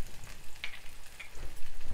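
Green chillies, onion and thinly cut curry leaves sizzle steadily in hot oil for a Telugu ivy gourd coconut curry, a close, crackling fry with soft stirring bursts.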